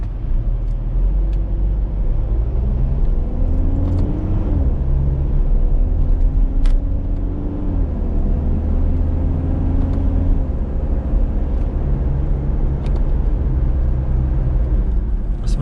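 A 2014 Mitsubishi Montero Sport GLS V 4x2 with an automatic transmission and a turbocharged engine accelerates from inside the cabin, its low engine rumble and whir climbing in pitch through the gears beneath steady road noise.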